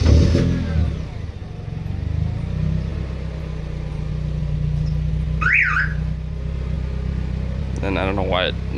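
Car alarm on a Nissan 240SX sounding during a remote start, with two short warbling chirps that sweep up and down, each under a second, over a steady idling engine rumble.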